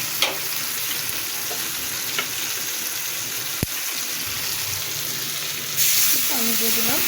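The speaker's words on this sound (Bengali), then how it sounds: "এই পর্যায়ে একটু পানি দিয়ে আমি গ্রেভি করে নেব।" Water goes into a pan of frying hilsa fish heads, and the constant sizzle carries on with a brief splashing pour near the end. A voice is heard faintly.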